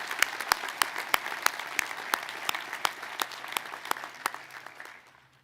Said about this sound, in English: Let's give the foundation a round of applause.